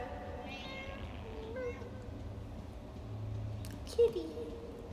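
Cat meowing in the video game Into the Pit, a few short mewing calls at moderate level over a steady game ambience with a soft hum, one brief sharper cry near the end.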